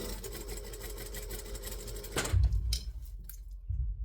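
A sewing machine running a steady seam, then stopping and restarting in short bursts as it back stitches, with soft handling noises between the stitches.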